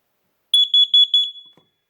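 A basement smoke detector chirps in one rapid run of eight close, piercing beeps lasting under a second, loud and alone in an otherwise quiet room.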